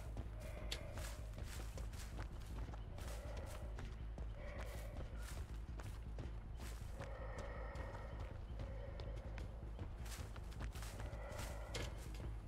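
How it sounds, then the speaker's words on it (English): Rhythmic footsteps from a Dead by Daylight match, a steady series of soft thudding steps repeating every second or so over a dense game ambience, moderately close and continuous throughout. "I heard a footstep."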